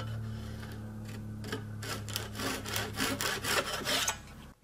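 Hand saw cutting a piece of wood for a mortise gauge, a quiet motor hum in the background, then a series of rasping back-and-forth strokes building in loudness, close up.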